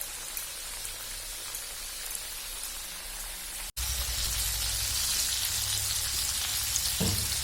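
Buttermilk-marinated chicken frying in oil in a pan over medium flame gives a continuous, rain-like sizzle that grows louder and fuller partway through as the pan is adjusted, with a faint clunk near the end.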